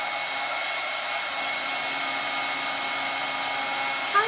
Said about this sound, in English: get that awful sounding dryer back out